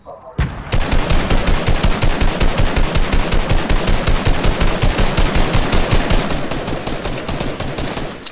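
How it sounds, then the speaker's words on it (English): Fortnite gunfire: a long, loud rapid-fire stream of evenly spaced shots that starts abruptly and rattles on for about seven seconds, close and dominant, with faint voices barely present. "Start firing."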